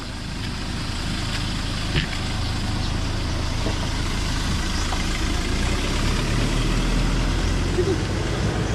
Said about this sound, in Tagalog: May truck. Ang laki.